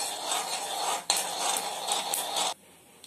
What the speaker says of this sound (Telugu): ఆవాలు వేయాలి. వేసాక కలుపుకోవాలి.